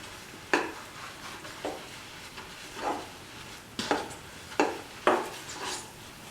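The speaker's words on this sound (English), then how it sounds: "Keep on stirring and breaking the lumps" Thick arrowroot sweet pudding stirred in a pan over high flame: about half a dozen soft, wet scraping strokes at an irregular pace over a low hiss, close and fairly quiet, with no talking.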